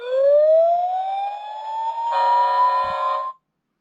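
A SuperThings Rescue Truck toy sounds its electronic siren, one loud rising wail that shifts into a steady tone and then cuts off abruptly, close and alone.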